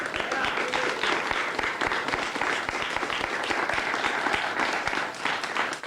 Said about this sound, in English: if I could have a round of applause for my judges